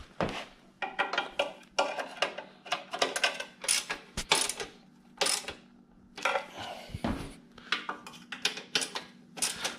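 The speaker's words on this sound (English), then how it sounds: "Just got to tighten all these 10 millimeter bolts around the perimeter." Ratchet tightening 10 mm cylinder head bolts on a Honda GX390 small engine, giving repeated bursts of close, crisp clicking with short pauses between strokes, alone without talk.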